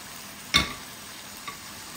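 A chicken casserole gets stirred in a frying pan: one short scraping swish of the utensil, followed by a fainter second touch, over a quiet background.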